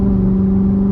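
Loud C7 Corvette engine holding a steady, deep idle-like drone with strong low harmonics, close and continuous with no speech, at night on the road.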